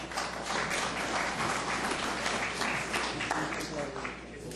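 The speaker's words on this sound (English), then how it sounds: "There's no applause during a council meeting" Applause breaks out during a municipal council meeting in Coquitlam, a steady, fairly loud wash of clapping from a crowd in a hall, continuing for several seconds with some murmuring underneath.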